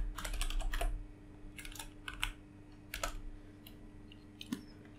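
Typing on a computer keyboard comes in quick clusters of clicking keystrokes with short pauses between, close and moderately quiet over a faint steady hum.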